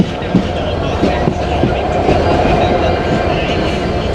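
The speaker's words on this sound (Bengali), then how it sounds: "এই যে হচ্ছে বনলতা এক্সপ্রেস রাজশাহীর উদ্দেশ্যে যাবে ঢাকা থেকে" The Banalata Express, bound for Rajshahi from Dhaka, rumbles loudly and continuously beside a station platform, with rhythmic wheel clatter and possible faint voices underneath.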